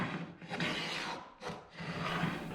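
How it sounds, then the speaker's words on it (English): Plow plane cutting grooves through the sides of a hand-built dovetailed wooden box, giving close, steady rasping strokes in two long passes with a brief pause between them, no voices. "I'm going to be using a plow plane to run some grooves through these boxes"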